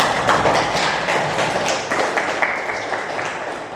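A classroom group of students applauds a fellow student group, a dense, steady patter of many hands clapping at close range for a few seconds.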